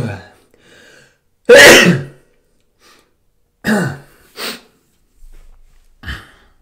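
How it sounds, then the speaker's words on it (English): A single loud, sharp sneeze bursts out near the start, followed by a few short breaths and small throat noises. "I'm about to sneeze."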